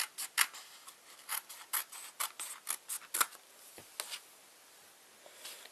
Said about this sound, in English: I'm going to go back and cut it again and just trim it a little bit more.